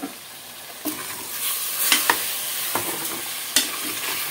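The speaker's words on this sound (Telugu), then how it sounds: "చక్కగా ఇప్పుడు మనం కలిపేసేసుకుందాము." Chicken pieces are stirred and tossed with rock salt, turmeric and masala in a pan, producing a continuous wet scraping mix with a few sharp spoon clinks against the vessel.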